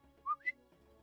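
A person gives two short, quick whistles, the second rising higher, clear and close against a quiet background.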